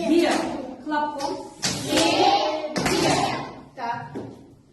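Children in a primary-school Russian lesson clap out the syllables of a word, a few sharp claps in a room under ongoing classroom voices.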